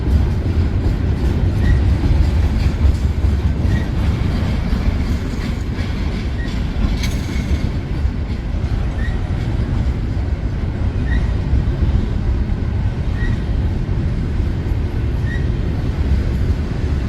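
A train at Winslow rolls along the track, slowing toward a stop at a green signal, with loud, close rumbling, clickety-clack of wheels and faint repeated squeals, no voices.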